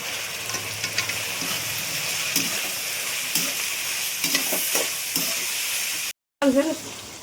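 Vegetables fry in a hot pan for street-style paneer fried rice, with a steady sizzle and repeated scraping stirs from a spatula, close and continuous, broken by a brief moment of silence near the end.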